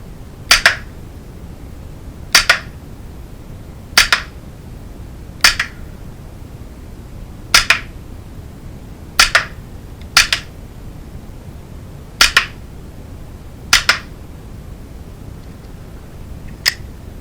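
Umarex P99 blowback air pistol fired at a target on a gate 30 feet away, eleven sharp cracking shots with clicking slide action, some in quick pairs, spaced a second or two apart, loud and close with no talk.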